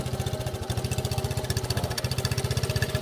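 A three-wheeler's small engine idles steadily nearby, its low pulsing beat rapid and even, with a brief stumble partway through.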